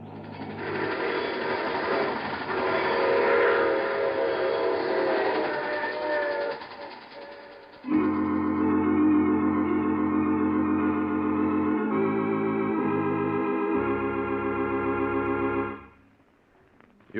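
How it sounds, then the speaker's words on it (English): A train sound effect from an old time radio mystery drama gives a steady mechanical rumble and rhythmic clatter, shifting in tone partway through before fading near the end, loud and with no talk. "I take this same train every week at this time."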